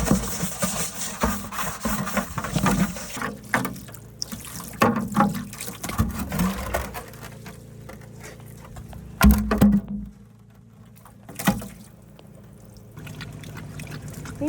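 Clean water is poured out for dogs at an Alaska homestead, splashing and trickling in uneven bursts at close range with brief pauses and some background rumble.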